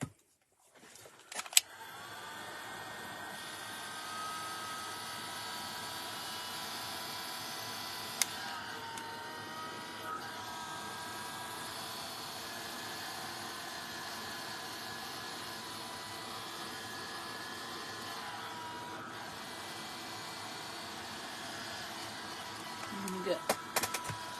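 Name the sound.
heat tool heat-setting ink on craft page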